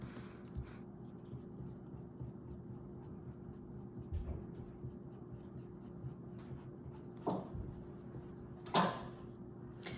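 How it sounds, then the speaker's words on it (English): A pencil is drawn across paper while sketching cherry blossoms, quiet scratchy strokes over a low steady hum, with a few sharper taps and scrapes spaced through the stretch. "And I'm going to add a little bit of pencil to the sides."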